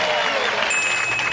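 Steady, full applause from a studio audience at a game show fills the room, dense and loud for its whole length, with a faint tone briefly running beneath it.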